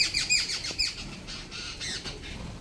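Pet budgerigars squawk in sharp, harsh bursts close by, several calls clustered near the start and more scattered later over a quiet room background.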